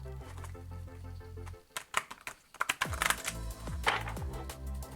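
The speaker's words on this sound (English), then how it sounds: "It's a little hard to shuffle, ain't it?" Tarot cards being shuffled, giving a papery, flicking riffle with clustered taps after a low musical drone fades, the sounds close and moderately loud with no talking.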